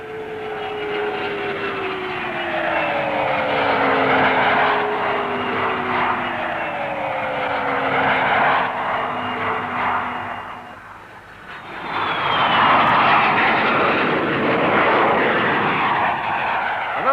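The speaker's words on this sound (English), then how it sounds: "Now a new look in civil transport aircraft, the Trident. With 3 Spey bypass jet engines grouped at the rear" A Trident airliner with three rear-mounted Spey bypass jet engines flies past at an airshow, a loud sustained roar with falling whine tones, swelling again after a brief dip.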